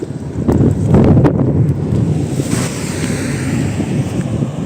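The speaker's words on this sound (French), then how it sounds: "il y a du vent sur le pont" Strong wind buffets the microphone on a bridge over a canal in a town, making rough low rumbling gusts. A few sharp knocks come early, then the wind noise continues steadily.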